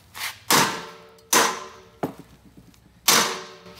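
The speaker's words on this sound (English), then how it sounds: "So instead of trying to like cut it, you just hit it with a hammer." A hammer striking a padlock frozen with canned air duster in a machine shop, four sharp metallic impacts spaced about a second apart, each ringing briefly, close and loud.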